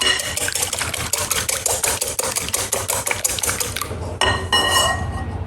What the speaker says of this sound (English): we're just gonna give these a quick stir